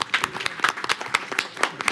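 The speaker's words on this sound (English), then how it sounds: "I ask my colleagues if we can give them a round of applause at this moment" A round of applause from a small group at a school board meeting, scattered individual claps with a steady, moderately loud rhythm and no talking over it.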